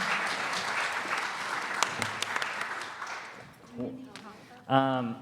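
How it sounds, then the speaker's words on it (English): Applause for a panel from a university symposium audience fills the room, thinning out toward the end as a voice begins speaking. "One last round of applause for the panel,"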